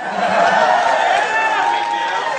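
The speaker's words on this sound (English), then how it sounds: "And the crowd goes wild." A studio audience cheers and shouts loudly on The Price is Right, a dense, continuous roar of many voices with whoops rising above it throughout.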